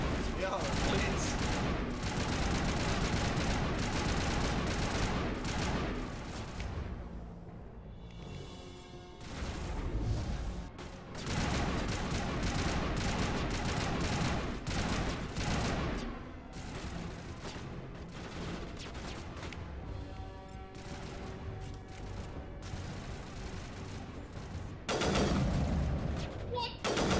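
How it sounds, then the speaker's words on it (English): Gunfire in Mass Effect Legendary Edition on Feros, including sniper rifle shots, rapid bursts and heavy volleys, loud and almost continuous with brief lulls. "Oh dear, I'm being shot in the back."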